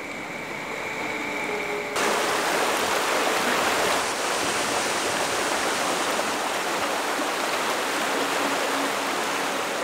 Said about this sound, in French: Avec les pluies torrentielles que nous avons subies, la rivière est en crue.